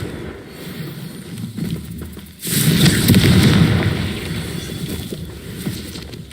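Confringo blasting spell cast in Hogwarts Legacy, a sudden burst that swells into a loud, fiery roar lasting a few seconds before fading into a lingering crackle.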